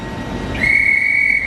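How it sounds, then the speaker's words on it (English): A loud, steady train whistle blast starts abruptly and holds as a sustained tone over rumbling background noise. "Nice blast of the whistle there."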